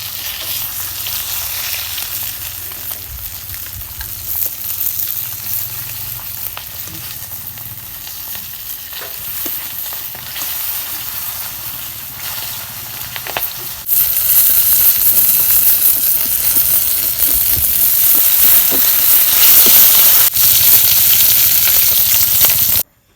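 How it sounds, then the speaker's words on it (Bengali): Steady crackling sizzle of fish frying in oil, continuous throughout and growing louder and brighter partway through, with no voices. "এই দেখো কি সুন্দর করে মাছ ভাজছি একদম মস মস করে"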